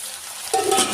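Chopped small tomatoes tipped into a hot pan for mutton sukka: after a quiet moment, a sudden close sizzle bursts up and crackles steadily while being stirred, with no talk.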